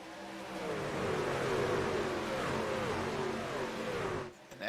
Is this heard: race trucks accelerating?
yes